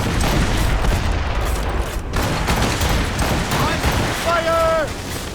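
Cannon and musket volleys crash out in a naval battle in Assassin's Creed Rogue, a dense, continuous barrage of booms and shots with crowd shouting mixed in, ending with a brief tonal call.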